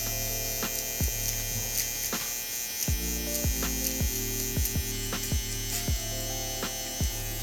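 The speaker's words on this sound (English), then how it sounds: "The rest of it, we're just gonna polish it with our trimmer and just barely, just gently tap that line." Hair trimmer buzzing steadily while gently polishing a fade line during a barber haircut, a close electric hum with short clicks and taps as the blade touches the hair.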